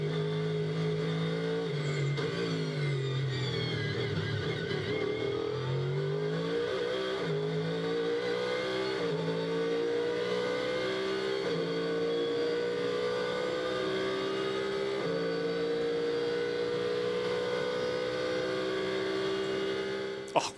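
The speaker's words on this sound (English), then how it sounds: "Turn up the volume and listen to that V8." Ford Mustang GT race car with a V8 engine at speed on the Circuit Paul Ricard during a GT Europe race, a loud continuous onboard roar that rises and falls through gear changes and never lets up.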